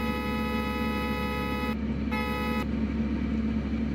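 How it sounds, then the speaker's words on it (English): Horn of a Porsche Carrera GT in the video game Greenville, a flat electronic tone held for about a second and a half, then a short second honk, over a constant low engine hum. "Interesting little horn there."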